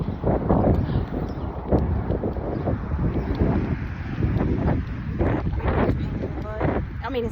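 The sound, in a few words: wind outdoors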